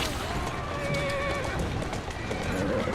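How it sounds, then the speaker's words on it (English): Horse neighing in the video game Assassin's Creed Syndicate, a clear whinny with a steady background of hoofbeats and ambient game noise, no talking. "Who's a good horse? You are."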